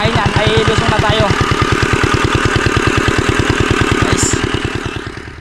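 Farm machine engine running in a rice paddy, a loud close steady chugging idle with a fast even knock, fading slightly at the end, while a voice speaks briefly over it.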